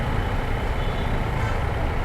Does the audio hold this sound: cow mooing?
no